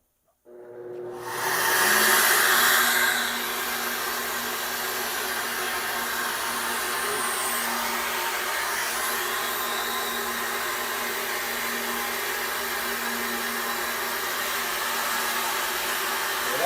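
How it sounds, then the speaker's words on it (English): Flow bench drawing air through a small block Chevy 350 cylinder head: a motor starts with a rising whoosh, then holds a steady, loud, broadband rushing hiss with a faint hum, continuous and unbroken. "we're going to start this up and we're going to see what the velocity numbers"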